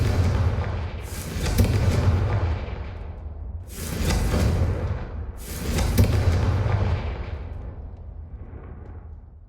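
Confringo blasting spell in Hogwarts Legacy, three heavy whooshing explosions in succession, each a loud close burst that swells and rumbles for a second or two before fading.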